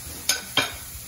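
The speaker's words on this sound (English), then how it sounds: "so I'm gonna let that sizzle for a little bit, let it get brown on both sides" Salisbury steak patties sizzle while browning in a pan, a low steady frying hiss broken by two sharp, bright bursts of sizzle or utensil contact close by.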